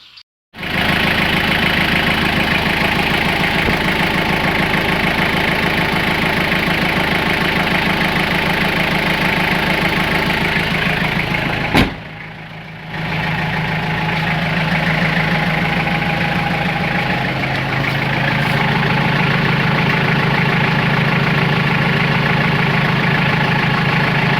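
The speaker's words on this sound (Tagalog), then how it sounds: "may maingay ang tunog na makina, ibang tunog na makina" A Toyota Liteace KM36 van engine idles loudly and steadily with a rough, rattling hum from a failed engine support, briefly dipping partway through before settling back to its drone.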